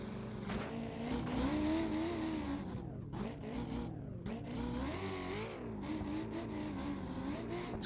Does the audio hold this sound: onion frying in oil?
no